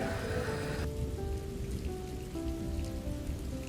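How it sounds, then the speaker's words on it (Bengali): Continuous patter of rain on a surface at a hotel in Orlando, steady and moderately loud, with faint tonal hum in the background and no voices. "তো দেখা যাক বৃষ্টিটা কমে কিনা"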